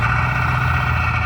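Steady idle of a car engine with its exhaust burbling, the car recently given a transmission swap; a continuous, even, close low rumble with no talk over it.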